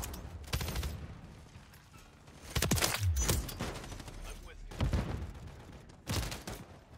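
Light machine gun fire in Call of Duty: Modern Warfare 3, heard as several bursts of shots with a louder stretch in the middle, mixed with game sounds and a player's voice.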